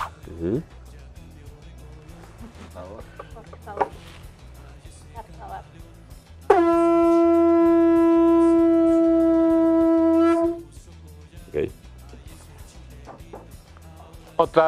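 An atecocoli, a conch shell trumpet, blows one long, steady, loud note lasting about four seconds, framed by quieter background sounds and brief clatter.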